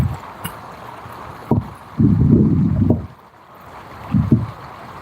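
Gale-force wind buffeting a microphone during live fishing, heard as low rumbling gusts that strike in irregular bursts, briefly at first and then longer, over quieter outdoor background.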